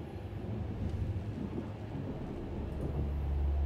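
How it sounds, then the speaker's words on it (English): A thunderstorm in Mass Effect: Andromeda: a continuous low rumble of thunder that swells toward the end, heard faintly behind a muffled wash of noise. "Not with these storms."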